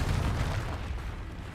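In the Hogwarts Legacy video game, a Confringo spell goes off as a deep, rumbling explosive boom that swells and fades over about a second and a half.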